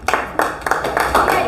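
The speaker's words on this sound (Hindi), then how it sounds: "इसके लिए एक जोरदार ताली" A short burst of rhythmic group clapping at a school farewell celebration and prize distribution, several strong beats in quick succession, near and loud, with possible background voices.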